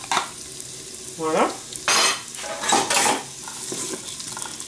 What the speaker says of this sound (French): Ça chauffe donc tranquillement, je vais ajouter donc mon oignon et mon ail.